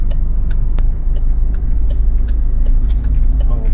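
Loud, steady highway traffic heard from close by, with cars and a green multicab passing in a continuous engine roar, faint ticking and brief higher tones cutting through.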